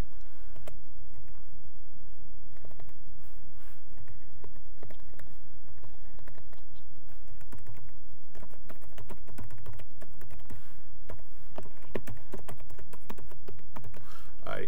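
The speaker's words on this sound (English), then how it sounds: "I'm just going to go ahead and type this in manually" Manual typing on a computer keyboard in a quiet room, steady bursts of clicking keystrokes with brief pauses and a few louder key presses near the end.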